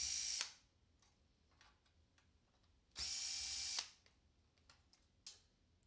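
A power screwdriver backs two screws out of a PlayStation 3's bottom plate in two short whirring bursts a few seconds apart, with faint clicks and handling noises between them.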